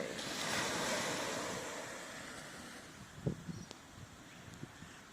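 Coral Sea waves washing ashore at Hervey Bay in overcast, rainy weather, a broad steady surf roar with wind buffeting the microphone, easing slightly toward the end.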